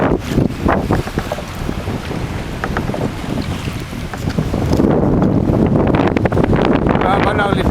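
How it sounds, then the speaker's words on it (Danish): Strong wind buffets the microphone while sea kayaking around a small wild island, a loud gusty roar with splashing water and occasional paddle knocks, growing louder toward the end; a person speaks over it. "Der er godt nok lidt blæsetur."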